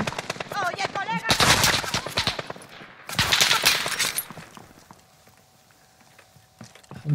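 Rapid gunfire in Call of Duty: Modern Warfare, with two dense bursts of loud automatic shots separated by a short gap, then quieter distant pops and game ambience.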